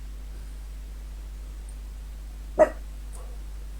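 A dog gives a single short bark at night outdoors, fairly distant and alone over a steady low hum, with a faint second yelp shortly after.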